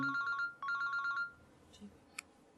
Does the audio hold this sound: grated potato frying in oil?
no